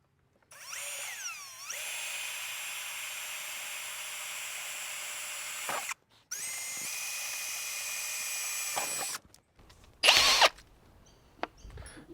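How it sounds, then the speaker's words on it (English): A power drill bores a pilot hole for a dual battery tray on a Toyota Prado 2.8L 150 series, whining steadily in two long close bursts, then a short burst and a clatter. "now that we've put the pilot hole through"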